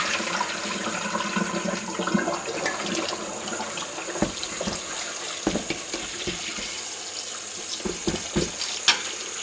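Hands swish and slosh potato fries around in a bowl of rinse water, a busy close watery churning with scattered splashes and knocks.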